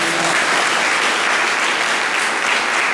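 A Pentecostal church congregation applauding, heard as loud, dense, continuous clapping from many hands that fills the room for the whole stretch.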